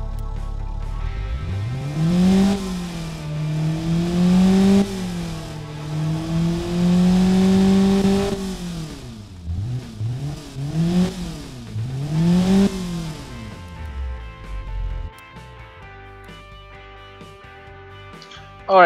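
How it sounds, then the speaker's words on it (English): A stock 120-horsepower classic inline-four car engine revs repeatedly, rising and falling in loud, close bursts before dropping back to a steady idle. "the stock version of this classic inline 4 engine"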